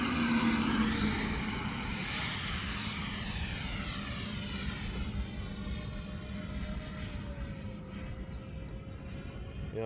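A Freewing SR-71 RC model jet cruises overhead with gear up, giving a steady, rushing electric ducted-fan roar that slowly shifts in pitch as it passes at a distance, with no talking.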